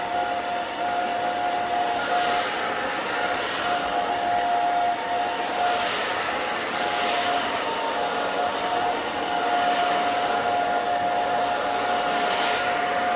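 A blow dryer runs continuously nearby, a steady loud whooshing roar with a whine, its airflow swelling and easing slightly as it moves.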